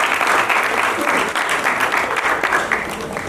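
An audience at a staged show breaks into steady, loud applause, a dense, continuous wash of many clapping hands that carries evenly from start to finish with little variation.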